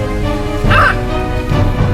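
A dog on a hiking trail at the Externsteine rock formation gives two loud, close barks or yips, separated by a short pause.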